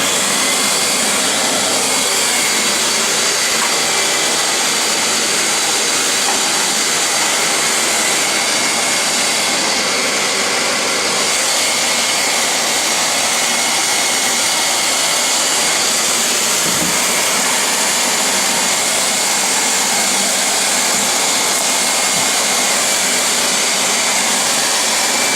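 A vacuum cleaner runs steadily in a workshop, a loud, continuous whirring drone that holds unchanged for about 25 seconds with no talking.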